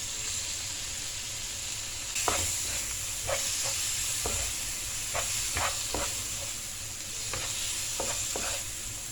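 Young jackfruit curry sizzles steadily in a frying pan, with a loud crackle jumping up as tomato goes in and brief stirring clatters cutting through the continuous hiss.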